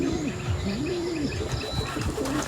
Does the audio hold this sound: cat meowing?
no